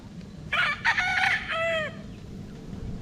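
A yogurt-gray stag, a young gamecock bred over a golden boy line, crows once in a loud, clear call that breaks into a long drawn-out ending, set against quiet farmyard background noise.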